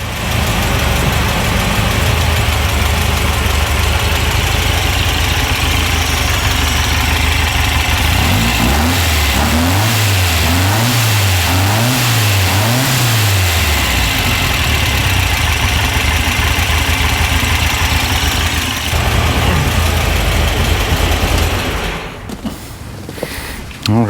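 A Volkswagen engine runs after a tune-up, idling loudly and steadily, then revved in several quick rising and falling bursts before settling back to idle and cutting off near the end, with talk over it.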